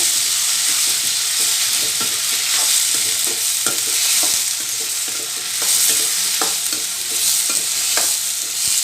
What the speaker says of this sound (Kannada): ಈಗ ನೆನೆಸಿರೋ ಅಂತ ಹೆಸರು ಬೇಳೆ ಹಾಕ್ತಾಯಿದ್ದೀನಿ ಒಂದೆರಡು ಸ್ಪೂನ್ ಹಾಕಿದ್ರೆ ಸಾಕಾಗುತ್ತೆ